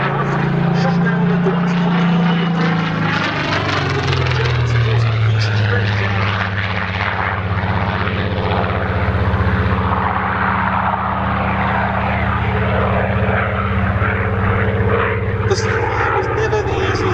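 A Seafire F.Mk.XVII propeller fighter drones loudly and steadily throughout at an air display, its engine tone shifting slightly as it flies, with a voice talking over it.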